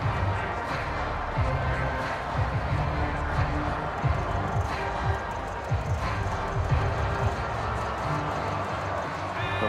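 Dense, steady stadium crowd roar from a Madden NFL 23 game, Cowboys at Eagles, a loud home crowd filling the whole stretch with constant rumble and scattered thuds and commentary-like voices underneath.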